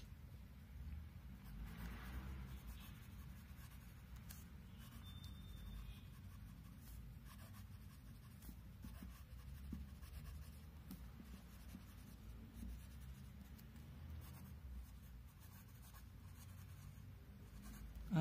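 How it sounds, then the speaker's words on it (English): A left-handed steel-nib fountain pen writes across paper in a steady, faint scratching stream of strokes, heard alone over a low background rumble. "So let's just do a writing sample."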